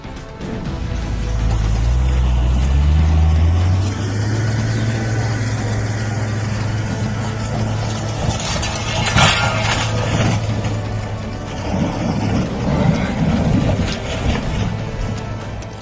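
A pickup truck's engine revs hard and steady up close for the whole stretch, a loud low rumble with rising pitch early on, then a lurch and rougher clatter as the driver tries to power through a roadside ditch.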